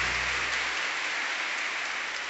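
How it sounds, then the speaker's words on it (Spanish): Steady wash of applause from an audience at a Christian worship concert, dense and even throughout the short moment with no voices standing out. "Fuerte el aplauso que se lo merece."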